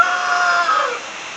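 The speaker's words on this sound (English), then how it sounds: "rooster's crowing." A rooster crows once, a bright drawn-out call heard at a moderate distance, with no one talking.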